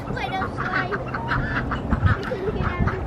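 Backyard ducks with a pool and their own little house quack in a noisy, close flock, overlapping calls running continuously over a busy outdoor background.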